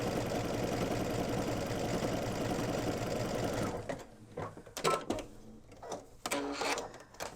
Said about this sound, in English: So now this is the lightning stitch. And you can make it longer.